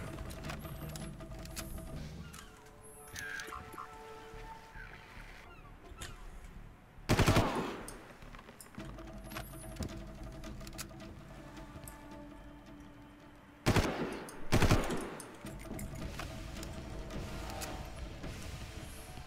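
Gunfire from a weapon in the video game Far Cry comes as bursts of shots over a constant game soundscape, with two louder sustained volleys standing out against the steady background.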